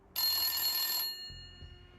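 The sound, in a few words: mobile phone ringing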